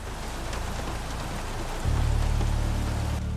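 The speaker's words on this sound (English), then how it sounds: "Would you just listen to all that rain that is splattering on our F1 car?" Dense, steady rain hisses and splatters on an F1 car in the F1 2016 video game, and a low engine drone joins halfway through beneath the downpour.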